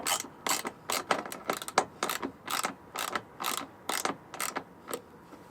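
A hand ratchet clicks steadily while bolts are tightened on a 2-inch hitch being installed on a 2019 Jeep Wrangler Rubicon, giving about a dozen close, crisp bursts of rapid pawl clicks in an even back-and-forth rhythm.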